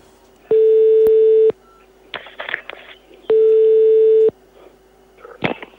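Telephone line tones during a morning phone call: two steady, loud beeps about a second each, separated by a gap with faint clicks and rustling, then a sharp click at the end.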